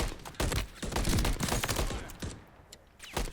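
Rapid bursts of gunfire in an Xbox shooter game, with several sharp shots cracking close and then trailing off into a busy, noisy background.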